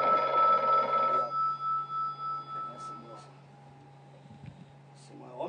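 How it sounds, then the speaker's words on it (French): A telephone bell rings loudly, then decays in several fading pulses, leaving a quiet steady hum and a few faint clicks. "Remets un coup de sonnerie."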